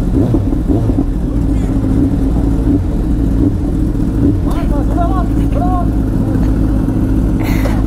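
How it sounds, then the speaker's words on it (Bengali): A group of motorcycles including a Kawasaki Z900 rumbles loudly close by, engines running steadily with a few short rev blips toward the end, while voices carry faintly underneath. "অ্যান্ড সব বাইক আপাতত এখন স্টার্ট হবে।"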